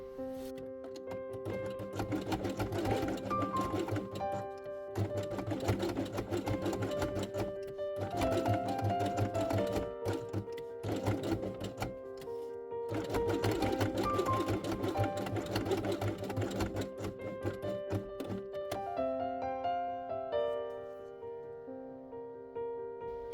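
A sewing machine stitches fabric for an Easter quiet book chick page in several runs of rapid, even whirring and clatter, separated by brief pauses, close and clear, with a softer slower stretch at the end.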